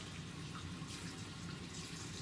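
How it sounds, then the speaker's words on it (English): Warm water runs steadily from a sink tap at a moderate flow during handwashing, a constant close hiss with no pauses and no talking. "I'm going to go ahead and adjust the water, making sure the flow rate is good to prevent any splashing."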